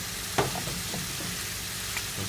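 Razor clams stir-frying in a wok with chili curry paste and oyster sauce give a steady close sizzle, with a few soft stirring scrapes and clicks along the way and no talking.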